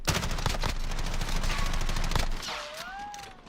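Rapid automatic gunfire in Call of Duty, loud and close for about two seconds of steady shots, then fading into quieter game ambience with a faint tonal whine.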